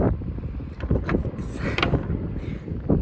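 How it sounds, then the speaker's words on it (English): Strong gusty wind on Ios beach in Greece buffeting the microphone, a loud low rumble with constant roar and occasional higher whooshes, close and dominant throughout. "The wind is pretty strong here."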